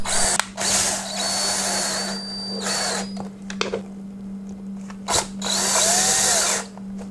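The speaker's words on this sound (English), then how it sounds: "we're going to use our Torx T20 bit to do this" A power drill fitted with a Torx T20 bit drives a screw while a power cord is replaced on a Porter Cable router. It gives several short, close whirring bursts separated by pauses.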